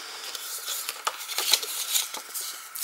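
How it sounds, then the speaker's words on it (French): Paper is cut for a small gift pouch, giving light, crisp snips and rustling scrapes in short irregular strokes. The sound is close and fairly quiet, with no talk. "Donc on va couper comme ceci"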